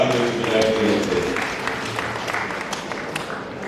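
Members of a parliament clapping together in a chamber, a dense, steady wash of applause that thins slowly toward the end, with some voices underneath.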